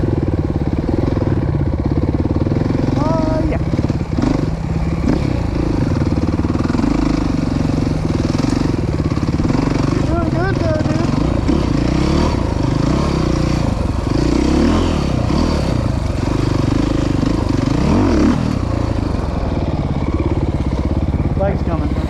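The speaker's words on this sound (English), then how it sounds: "Bike's coming." A dirt bike engine at Croom Motorcycle Area, rumbling and revving at a loud, fairly constant level with gear changes and rises in pitch, under someone talking.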